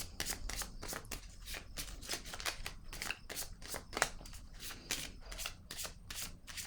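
A deck of oracle cards is shuffled for a reading, with quick, crisp riffling and flicking bursts repeating rhythmically up close, quiet and without talk.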